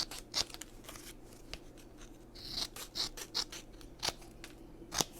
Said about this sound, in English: So I'll cut a couple more that are the same size, and I will trim them down as well.